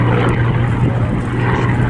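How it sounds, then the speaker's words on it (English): A Hawker Hurricane of the Battle of Britain Memorial Flight passes at Southport Airshow 2019. Its Merlin V12 engine roars loud and close in a dense continuous drone, with a steady supercharger whine running through it. "lovely note of a supercharger, so every time the props are facing towards you, a lovely whine coming from that engine"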